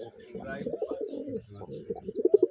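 Pigeons in a loft give soft, low repeated coos close by, with a few louder bursts toward the end, mixed with other bird calls and faint murmuring.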